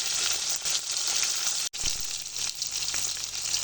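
Fish rubbed with salt and turmeric, a rohu-type carp, sizzles steadily in hot mustard oil, a dense loud crackle with a brief break partway through before the frying resumes.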